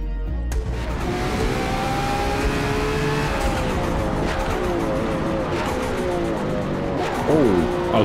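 A Lotus racing engine revs and whines in Forza Motorsport at Le Mans, with shifting tones and tire squeals, while a voice talks over it throughout.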